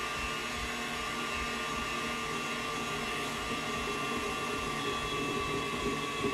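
Stand mixer kneading dough for a cooking show, a steady continuous motor hum with a faint rhythmic wobble running unbroken throughout at moderate level, no voices.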